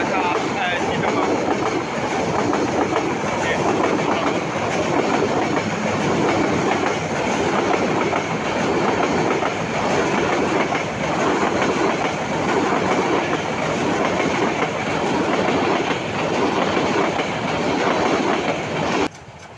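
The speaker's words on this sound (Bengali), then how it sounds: "ট্রেনটি চলে যাচ্ছে আন্তনগর ট্রেন, ঢাকা চিটাগং।" An intercity train on the Dhaka–Chittagong line rushes past close by on the railway near Mirsharai. It makes a loud, steady roar with rhythmic clickety-clack of wheels on rails throughout, with no talking.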